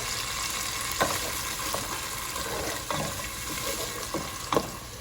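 Onions and celery sautéing in a pan, seasoned with kosher salt and black pepper: a steady close sizzle with intermittent stirring scrapes and clinks of a utensil against the pan, without any talking.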